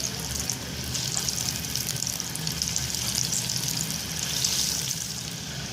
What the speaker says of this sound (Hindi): गर्म हो चुका है तो मैं इसे लो फ्लेम पे, मीडियम टू लो फ्लेम पे मैं इसे फ्राई करूँगी